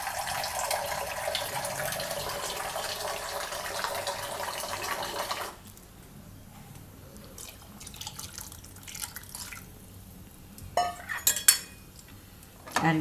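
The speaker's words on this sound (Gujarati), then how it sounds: "તો હજી થોડુંક પાણી નાખીશું." Water pours steadily into a pressure cooker holding soaked mixed lentils in a home kitchen, a loud continuous rush for several seconds, then quieter drips and a few sharp metallic clinks of utensils against the pot.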